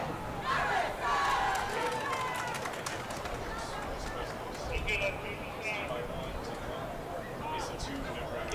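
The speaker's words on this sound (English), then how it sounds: "what a decent crowd settling in here at Kincaid Stadium" A crowd of high school football fans at Kincaid Stadium during a Friday night game between Duncanville and South Oak Cliff murmurs and calls out steadily at a distance, with a commentator talking over the noise.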